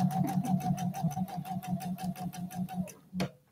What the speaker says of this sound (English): So that's what I'm using to sew my 1/4 inch seam.